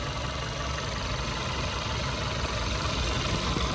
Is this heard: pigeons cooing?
no